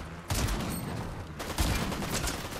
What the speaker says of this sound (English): Dirt bike shotgun works when there's no stairs around.